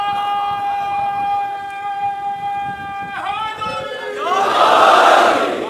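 A crowd at a religious gathering chants slogans: a sustained, droning chant holds for several seconds, then breaks into a loud, surging roar of many voices.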